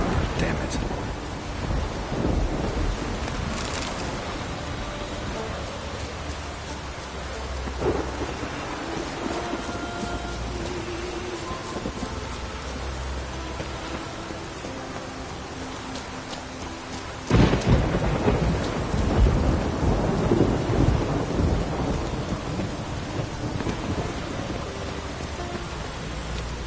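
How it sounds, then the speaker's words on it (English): A thunderstorm in The Witcher 3: steady heavy rain hissing throughout, with rolling thunder swelling midway and a loud crack near the end; a voice speaks briefly. "Storm, damn it."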